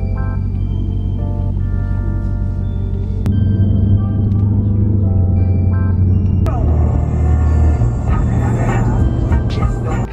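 Ford F-series truck cruising on the road, a steady low engine drone and rumble filling the cab with a continuous hum throughout, with no talking.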